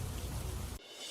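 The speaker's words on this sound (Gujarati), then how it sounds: "દ્વારકામાં ભારે વરસાદ." Heavy monsoon rain pours down in Gujarat, a dense, loud hiss of downpour filling most of the moment before it cuts abruptly to a quieter wash.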